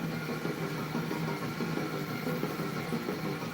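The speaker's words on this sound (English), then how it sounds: "You can hear my engine drop there a little bit" Car engine in the arcade racing game Chase HQ 2 hums steadily at a low, constant drone as the throttle eases off, a quiet synthesized tone with no talk over it.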